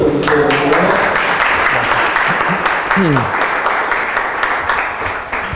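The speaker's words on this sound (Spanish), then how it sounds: "un aplauso para nuestro conferencista" Clapping from a lecture audience honoring the speaker at a Durango independence history conference, a continuous patter of hands with a voice speaking over it.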